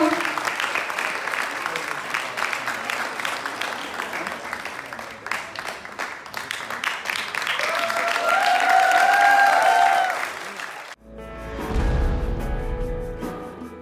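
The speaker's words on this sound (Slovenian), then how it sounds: "Pospremimo jih z aplavzom." Audience applause for the dancers of Franc Miklošič Gymnasium in Ljutomer, a steady dense clapping that swells toward the end before cutting off, followed by music.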